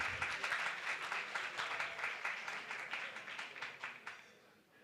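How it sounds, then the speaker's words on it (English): Audience applause fills a lunch and keynote speech event, with dense, sustained clapping from a crowd that holds steady before gradually thinning and fading toward the end. "Please give him a round of applause."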